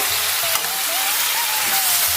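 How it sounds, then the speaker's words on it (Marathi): A close, steady sizzle fills the air as okra, brinjal, chilli and tomato are stirred in a hot pan without water, with occasional scraping of a utensil. "आता सर्व मिक्स करून घेऊया व्यवस्थित"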